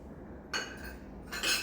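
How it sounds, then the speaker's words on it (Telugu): Two silver bowls clink against each other in two short bright bursts, close and fairly quiet, with a pause of near silence between them and no one talking. "రెండు వెండి గిన్నెలు"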